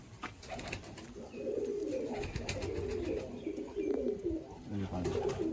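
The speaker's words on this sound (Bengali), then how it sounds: "হ্যাঁ, এটা আন্দা পায়রা।" Soft, repeated pigeon coos rolling low and steady, fairly close, with faint background noise and no talking.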